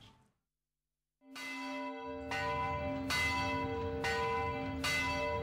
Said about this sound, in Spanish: Sonaron las campanas